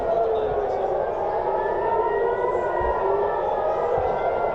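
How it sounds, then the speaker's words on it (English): Air raid sirens wail continuously across Tel Aviv, a loud, sustained rising-and-falling tone filling the whole stretch with steady low rumble beneath. "The sirens are going off."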